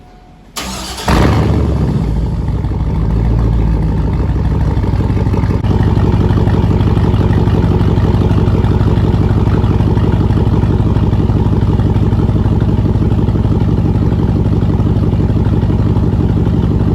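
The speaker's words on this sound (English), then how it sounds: "I never showed you guys how the cold start sounds." A dirty pickup truck's engine cold-starts with a brief crank, catches loudly, then settles into a steady, strong idle with a faint mechanical clatter, close by and without talk.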